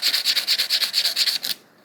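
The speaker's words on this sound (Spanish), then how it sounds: "y van colocando la pieza y la van lijando en el borde para que se mantenga la curvita" A mosaic piece is sanded along its edge in a quick run of about a dozen rhythmic rasping strokes, close and loud, then stops.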